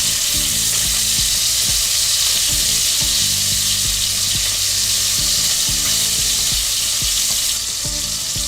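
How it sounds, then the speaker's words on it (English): Sausage for shrimp and sausage jambalaya fries loudly in a pan, a dense continuous sizzle and crackle with occasional stirring scrapes, close up and without talk. "Just add my sausage in there and we're just gonna let that cook."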